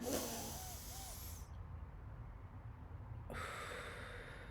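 Soft breathing close to the mic: a sharp intake, a long quiet pause, then another airy breath, all faint and hissy.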